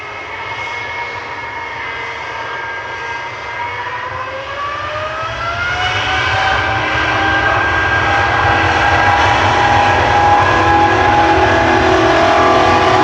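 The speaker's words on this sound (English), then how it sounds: "This is an A330-900, a Neo with flight 73." Virgin Airbus A330-900neo jet taking off at Manchester Airport, its engine roar building loud and close, with rising whining tones climbing in pitch as the thrust grows, then holding steady.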